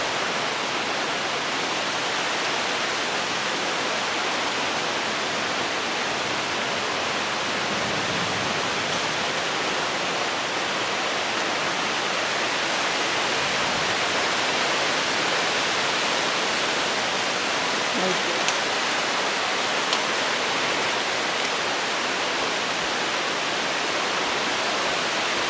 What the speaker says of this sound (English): can feel the rain blowing in.